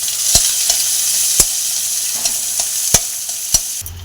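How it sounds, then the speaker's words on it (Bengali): Sliced onions stir-fried in a pan with bay leaf in hot oil while cooking soybean curry: a loud, continuous sizzle broken by sharp, repeated spatula scrapes and clinks at irregular intervals, close up, no voices. "এবার পেঁয়াজটা আমি ভেজে নেবো একটু।"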